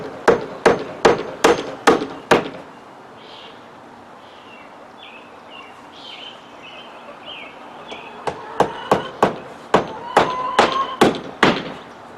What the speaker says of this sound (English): the only hammer I can find is this old wooden handle hammer